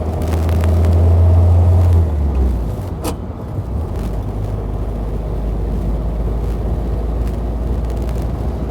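A 1948 Willys Jeepster engine runs in first gear, a steady low drone with a heavier hum early that eases into a continuous rumble, a sharp click partway through.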